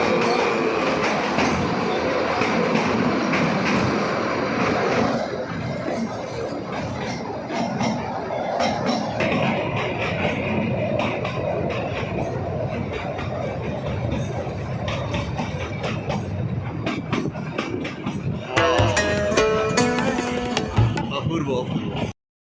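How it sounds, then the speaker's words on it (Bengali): Train running through a series of tunnels on the line to Shimla, with a continuous loud rumble and rattle under talk and a brighter clattering burst near the end. "এরকম প্রায় 100-র উপর টানেল আছে, যার মধ্য থেকে এই ট্রেনটা যাবে, সিমলা পর্যন্ত পৌঁছবে।"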